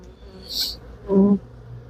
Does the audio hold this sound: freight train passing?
no